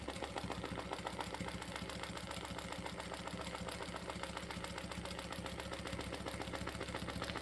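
A sewing machine quilting fabric with a ruler foot that glides without bouncing, its steady, rapid stitching rhythm running unbroken and close throughout.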